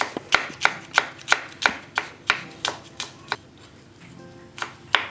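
A knife chops garlic on a cutting board in a steady rhythm of about a dozen crisp, close taps, pausing briefly near the end before one last cut.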